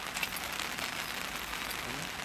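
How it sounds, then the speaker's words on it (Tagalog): Heavy morning rain falls steadily on surfaces during a flood, a dense, even hiss with no voices. "Maghapon siguro itong ulan"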